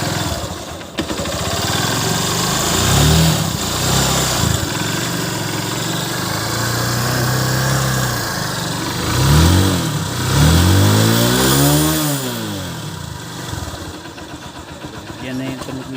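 A motorcycle engine running after a stator replacement idles and revs in several rising and falling bursts, close and loud, with someone talking over it.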